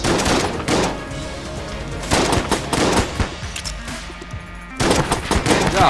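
Rapid bursts of video game gunfire from Enter the Gungeon, loud dense volleys in repeated clusters with brief gaps between them.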